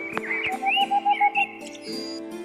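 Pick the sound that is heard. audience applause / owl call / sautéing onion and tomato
owl call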